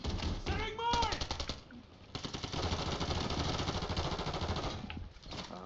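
Enemy gunfire in the video game Warzone 3, rapid automatic bursts rattling almost without a break, loud and close, with a voice talking over the shooting.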